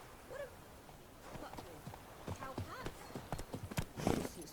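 A horse in The Witcher 3 clip-clops along at a walk, its hooves making a steady run of distinct knocks that grow louder toward the end, while faint voices speak in the background.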